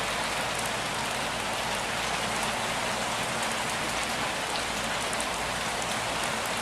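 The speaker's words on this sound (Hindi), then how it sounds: "हल्की हल्की बूंदाबांदी हो रही है" Steady, even hiss of light monsoon rain pattering on surfaces near Harihar Fort, constant and unbroken throughout with no voices.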